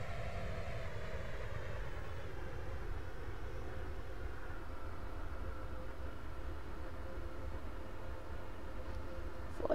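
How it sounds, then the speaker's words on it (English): A train runs through a station platform in the Roblox game SCR, giving a quiet, steady low rumble with a faint tone that slides slowly downward and no talk. "The train now approaching platform 3 does not stop here."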